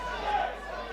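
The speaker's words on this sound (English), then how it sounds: "You hear by the reaction of the sold-out crowd here at the Electric Ballroom" Steady murmuring roar of a sold-out crowd at a wrestling show in the Electric Ballroom, a continuous moderate chatter filling the hall while a commentator talks over it.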